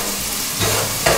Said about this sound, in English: hear that? That means it was hot. Let that fry up.